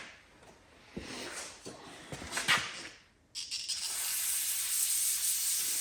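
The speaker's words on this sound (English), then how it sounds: "what I do is I spray it out with the brake cleaner, your brake cleaner" Brake cleaner sprays from an aerosol can into the oil funnel of a Predator generator: short hissing spurts, then a brief pause and a longer, steady hiss.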